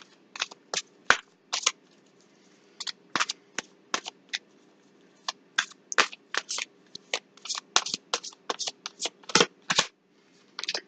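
A deck of tarot cards is shuffled by hand, a close series of sharp riffling and slapping bursts in irregular clusters against a quiet background.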